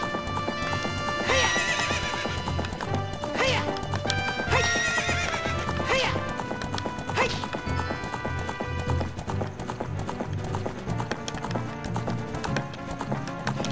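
A horse in The Legend of Zelda: Ocarina of Time gallops with quick rhythmic clip-clop hoofbeats, broken by several loud whinnies, while someone talks over it.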